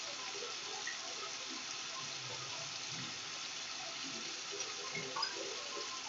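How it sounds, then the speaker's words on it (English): Tweezers rinsed under a running tap make a steady, even rush of water from start to finish, fairly close, with faint splashes and no voices. "So I'm washing off my tweezers."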